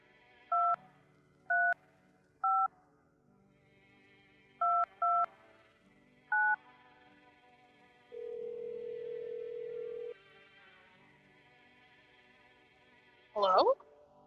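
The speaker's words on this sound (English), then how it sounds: "let me see if I can phone the friend" Telephone dialing in the video game No I'm Not A Human: a series of clean, close keypad beeps in uneven groups, then one long steady ringing tone, and a brief sharp burst at the end.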